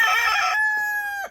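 A dominant Polish hen crows a short, loud, clear cock-a-doodle-doo at close range, one drawn-out call that fades at the end, with no other sounds.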